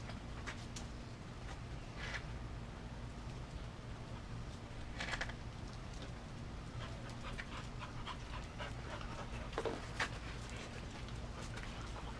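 Dogs pant steadily and rhythmically nearby over a low background hum, with a few soft shuffling sounds.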